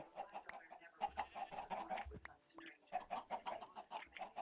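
Chickens on a ranch cluck in quick, repeated bursts, a soft, steady patter of close clucking with a brief squawk midway, heard quietly and without talk.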